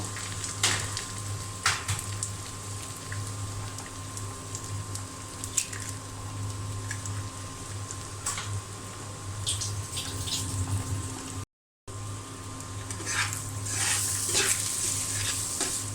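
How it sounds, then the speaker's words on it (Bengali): Eggs frying in a pan while noodles are cooked: a steady close sizzle and crackle with a constant low hum underneath, occasional stirring clicks and scrapes, a momentary dropout near the end, then a brighter burst of sizzling. "ডিমটা আমি আবার ভালো করে ভেজে নিব"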